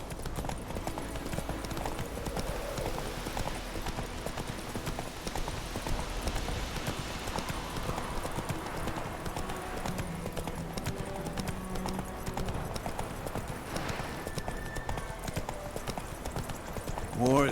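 The horse Roach gallops in The Witcher 3: Wild Hunt, a fast, steady, rhythmic clatter of hooves that runs throughout while characters talk over it.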